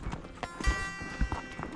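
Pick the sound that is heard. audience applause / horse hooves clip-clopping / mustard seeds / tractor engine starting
horse hooves clip-clopping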